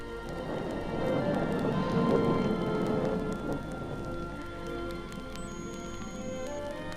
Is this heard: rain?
yes